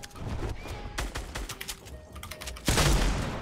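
Rapid bursts of gunfire in Fortnite: Battle Royale, with sharp shots and crackling volleys close by, a steady exchange that swells into a louder, heavier barrage toward the end.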